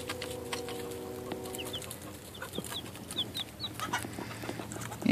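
A Silkie hen clucking around a chicken coop nest box, soft repeated clucks and short chirpy calls at close range over a faint steady hum, with scattered scratching and rustling.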